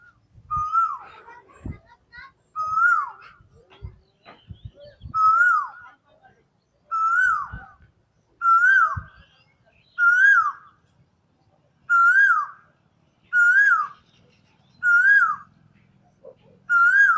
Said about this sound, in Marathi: कशी कोयल मस्त आवाज देते.